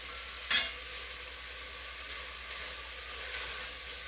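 Corn cooking with onion and butter in a pot gives a steady, soft sizzling hiss throughout, with one sharp spoon scrape or clack near the start.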